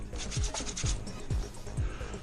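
Dust being wiped off a 1992 Ford F150 dashboard part, a series of close, rhythmic rubbing strokes, about five of them, each with a soft scraping swipe, with no talking.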